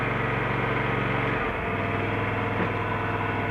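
A John Deere X370 lawn tractor engine, started with a little choke, runs with a steady low idle hum that shifts pitch briefly partway through and then settles into an even drone.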